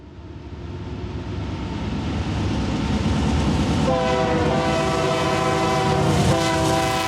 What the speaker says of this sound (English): There's a train going underneath me right now.